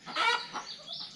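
An Ameraucana chicken squawks in a coop, a harsh call followed by a couple of fainter trailing squawks, fairly close with no voices.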